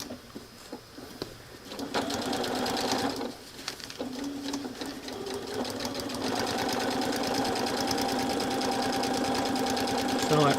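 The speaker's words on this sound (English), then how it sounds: "We flip it over, and I'm going to sew this one." A sewing machine stitching quilt pieces for a Sunflower Mosaic quilt, running in a steady, fast, whirring rattle after a few short starts, continuing close and loud while someone talks over it.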